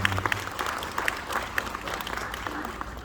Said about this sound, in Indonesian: kasih tepuk tangan dong mereka yang berusaha untuk bisa datang ke sini